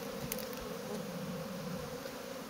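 Honey bees crowding a hive still covered black with them, a faint steady buzzing hum with occasional louder passes of single bees close by, no voices.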